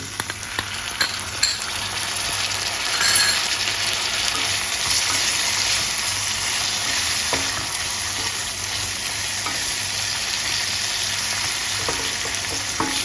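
Tomatoes go into a pan of browned onions for chole, frying with a strong, continuous sizzle and occasional stirring scrapes, close and steady with no talking.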